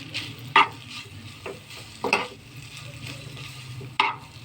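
Street-style chow mein noodles are tossed and stirred in a hot sizzling pan, a steady fry hiss broken by three sharp utensil scrapes on the metal, close and without speech.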